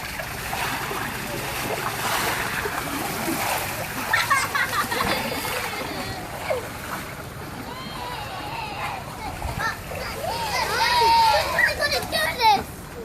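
Ice water sloshes and splashes as it is swirled around in the bed of a truck, a steady watery churning outdoors with wind and voices talking and calling in the background.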